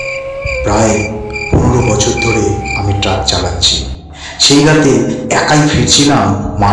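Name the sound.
crickets chirping at night, story sound effect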